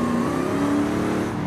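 A car engine in Forza Horizon 5 revs steadily while driving, a loud, close, continuous buzzing drone with no voices.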